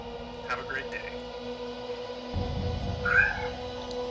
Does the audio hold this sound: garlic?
no